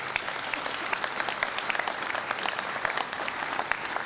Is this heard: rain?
no